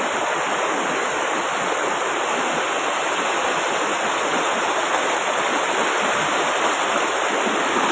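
A creek runs with a steady, full rushing of water, close and continuous with no pauses and no voices over it.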